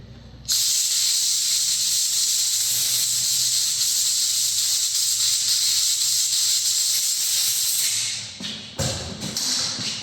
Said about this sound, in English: Give it a quick blowout of compressed air.